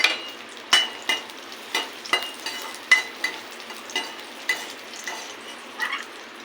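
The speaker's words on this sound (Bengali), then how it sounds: "ঘিটা গরম হয়ে এসছে, এবার দিয়ে দেবো কিশমিশগুলো। একটু নেড়ে চেড়ে তুলে নেবো।" Raisins frying in ghee in a wok, a soft steady sizzle broken by repeated scraping strokes of stirring at a regular rhythm, close and moderately quiet.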